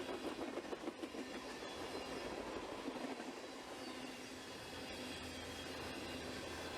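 A CSX freight train speeds past at steady volume, with faint rhythmic clatter of wheels on rails and a broad, continuous roar, no voices.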